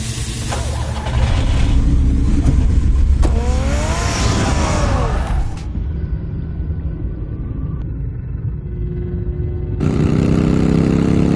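A car engine in Batman: The Telltale Series roars loudly and continuously, rising in pitch as it revs before abruptly cutting to a lower drone, then surging again near the end.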